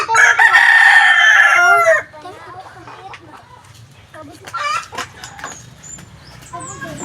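A rooster crows loudly and close by for about two seconds, followed by scattered chicken clucks and a voice speaking in the background.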